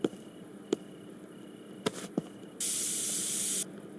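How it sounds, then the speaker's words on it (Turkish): A spray can hisses in Internet Cafe Simulator, one steady burst of about a second after a few scattered clicks and knocks, close and fairly loud, with no talk. "Aa sprey de bitti."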